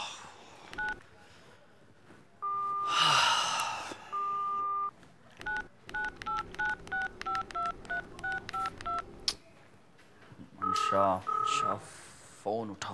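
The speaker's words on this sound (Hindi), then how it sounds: "मंशा, फोन उठाओ मंशा।" A telephone keypad sends a rapid run of short dialing beeps, with longer tones before and after and some talk in between, as a call is placed to a phone.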